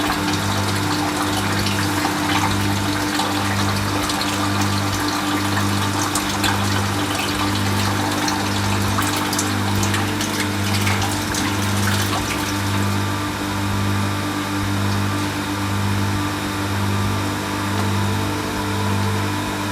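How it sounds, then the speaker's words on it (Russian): Water pump running during a simulated dry-run test, a steady loud motor hum with a rushing, gushing water sound, continuous and unchanging throughout. "И через несколько секунд Turbium 2 отключит насос по сухому ходу."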